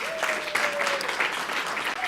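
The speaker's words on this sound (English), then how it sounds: "Please give her a round of applause" Brief applause from a healthcare panel audience, dense clapping over about two seconds, with a voice or tone running faintly underneath.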